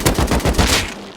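An AK rifle sprays a rapid string of about seven close, loud shots in the survival game Rust, then the fire stops abruptly.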